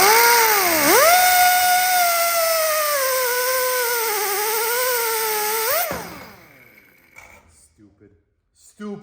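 Power tool cutting metal on a VW Bus, a loud whining tone that dips, rises and wavers under load for several seconds, then stops abruptly and leaves faint scattered clatter.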